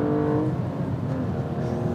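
BMW M235i inline-six engine running steadily under way, a loud continuous close-up drone with a smooth harmonic tone.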